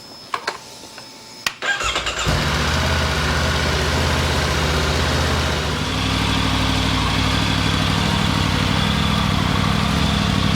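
A Triumph Tiger 900 Rally Pro motorcycle idles after a coolant flush, with a few faint clicks, then a sudden loud start into a steady, even idle with a low throbbing hum that continues close and alone.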